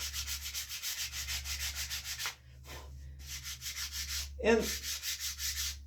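Rawhide on the back of a wooden paddle bow is sanded in fast, regular rasping strokes, close and steady, with a brief pause midway and a low hum running underneath.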